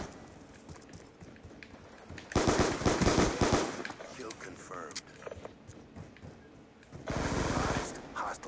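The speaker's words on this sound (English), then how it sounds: "I'm in a gunfight" Gunfire from a gunfight in the video game Black Ops 2, with two loud bursts of rapid automatic fire separated by quieter game ambience and a few scattered shots.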